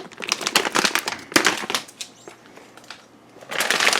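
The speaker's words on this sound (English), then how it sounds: "So we're going to use about a 1/2 cup of frozen strawberries." Frozen strawberries dropped into a glass for a smoothie make a run of hard, clattering crunches and clicks, bursts of rattling pieces separated by brief quieter gaps, close and loud with no talking.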